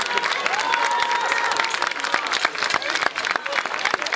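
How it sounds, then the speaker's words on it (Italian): Folk concert audience in Agerola breaks into sustained applause, dense clapping with a few cheers and some vocal tones carrying over the crowd throughout. "Applauso per Mimmo."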